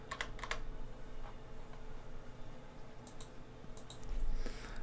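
Computer keyboard shortcuts and mouse clicks at a desk: a few quick clustered taps at the start, scattered clicks later and a short burst of keystrokes near the end, all fairly faint.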